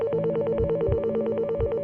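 A telephone trills in a dream sequence, repeated rapid warbling rings in quick succession with a faint thump beneath, close and clear with no voices.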